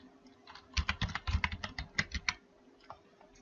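Fingers type on a computer keyboard, a close run of quick, uneven clicking keystrokes lasting about two seconds before tapering off into quiet, with no talking.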